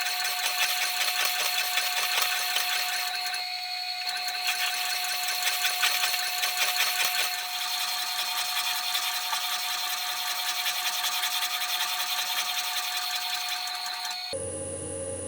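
A metal shaper cuts a quick change tool holder, producing a steady high-pitched whining scrape with a faint repeating stroke rhythm, briefly easing near the four-second mark and cutting off just before the end.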